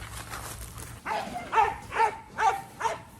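A dog in a breeder's yard barks five times in a steady rhythm, close and fairly loud, after a stretch of low background noise.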